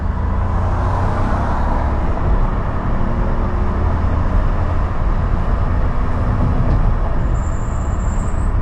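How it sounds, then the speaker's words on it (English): A manual car accelerating hard in second gear toward its top speed, giving a steady, loud engine and road roar that holds without a break and carries no talk. "Let's try second gear now, see what's the fastest we can do in second."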